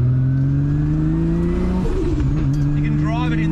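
Nissan R32 GT-R with an RB26 engine on a NISMO inlet manifold, driven at roughly 2,000 to 4,000 RPM, giving a loud, steady engine drone that rises in pitch, dips briefly mid-way and then climbs again, with a faint voice underneath.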